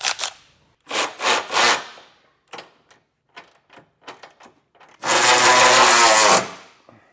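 Hitch bolts on a 2025 Mazda CX-90 are snugged down for a Curt Class III trailer hitch, giving short ratcheting bursts of clicks separated by pauses, then one longer rapid ratchet run near the end, close and fairly loud.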